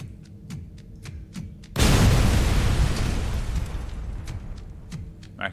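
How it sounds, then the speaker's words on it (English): Grenade blast in the RoboCop: Rogue City video game: a sudden loud explosion that roars and slowly decays over a few seconds, after faint clicking and tapping sounds. "Grenade!"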